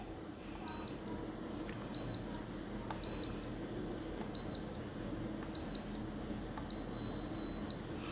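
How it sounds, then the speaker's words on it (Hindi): An inverter air conditioner's indoor unit beeps to signal an A6 error. Short, high electronic beeps repeat about once a second, ending in one longer tone, faint above a steady broadband hiss and hum. "A6 पर इसने जो है वो लॉन्ग बीप दी"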